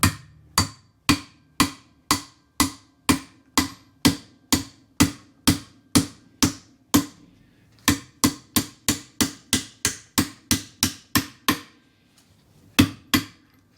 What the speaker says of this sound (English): Give it a couple of swift whacks, which we can do right now.